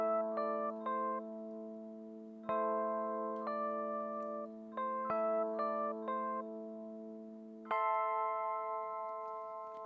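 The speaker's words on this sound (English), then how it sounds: "we hear this bright instrument, sounds like an organ to my ears" Bright, organ-like instrument track isolated from a song plays sustained chords that shift about every second or two. The tones are clean and layered, with crisp note attacks and no other instruments.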